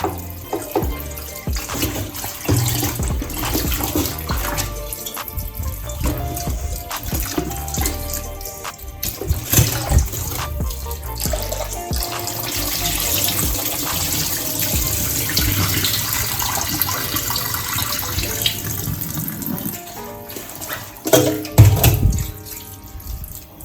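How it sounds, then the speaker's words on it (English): Goat head for Jamaican-style goat head soup being rinsed under a running kitchen tap: a steady, continuous splash of water into a sink with shifting gurgles and drips throughout, fairly loud and close, with no talking. "Wash it down. Clean it, wash it."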